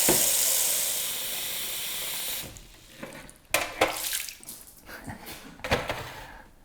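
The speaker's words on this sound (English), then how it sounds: "the next stage is that we need to add some water into the barrel at the bottom" Water poured into the bottom barrel of a Freshlife FL3000 sprouter: a continuous rushing pour for a couple of seconds, then intermittent splashes and trickles.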